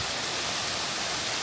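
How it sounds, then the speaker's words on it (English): A waterfall in Beppu, Japan, gives a steady broadband rush of falling water, even and unbroken, with no voices. "Waterfall."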